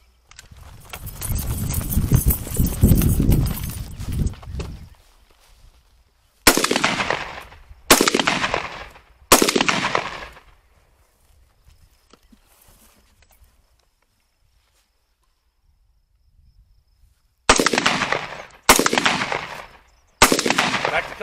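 Gunshots ring out during a firearms training drill, in two groups of about three sharp, loud reports each, every one trailing a short echo, after an opening stretch of broad rushing noise.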